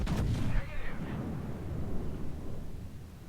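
Naval ship guns fire in a video game, a heavy booming blast at the start followed by a long rumbling roll that slowly fades.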